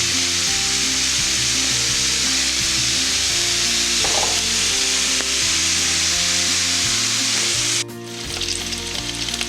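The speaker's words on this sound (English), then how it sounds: "add 2 tablespoons of flour to the sauteed vegetables" Vegetables sauté in a pan seasoned with salt and black pepper, giving a loud, steady sizzle with stirring scrapes over a layer of sustained background music.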